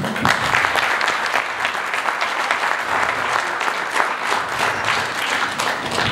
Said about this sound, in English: thank you by giving them a round of applause